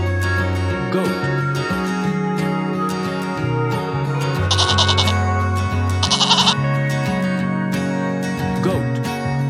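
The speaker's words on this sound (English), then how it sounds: "Goat." Goat bleating in a farm animal sound collection: two short, wavering bleats in the middle, set over steady tonal background music.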